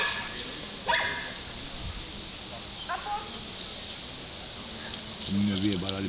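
A dog gives a few short, separate barks at moderate distance against a steady background hiss, with a faint murmur of voices.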